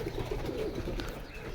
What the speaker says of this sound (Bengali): আর অনেক কবুতর